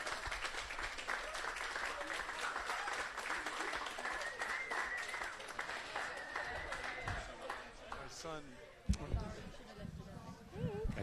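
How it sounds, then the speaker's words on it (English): Crowd applause at an autumn rowing festival's award presentation, dense clapping sustained for most of the stretch with a voice talking over it, fading toward the end before a sharp knock and renewed noise. "And one more big round of applause."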